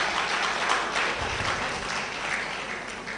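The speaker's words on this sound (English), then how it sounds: "Please, can we give him a round of applause?" An audience at a blood transfusion society event claps in steady, sustained applause that fills the room at even loudness throughout.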